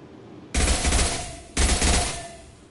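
Two loud, dense bursts of automatic gunfire from a Mass Effect 2 firefight, each lasting about a second with a short gap between them, heard close up with no talking.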